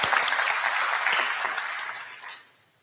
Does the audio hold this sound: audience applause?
yes